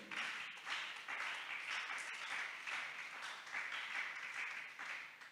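Church congregation applauding and cheering in praise of God, a dense, continuous wash of clapping from many hands that swells and holds without letting up.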